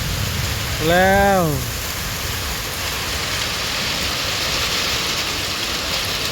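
Heavy rain pours down in a steady, loud hiss that fills the whole clip, with a brief passing tone and a few spoken words over it.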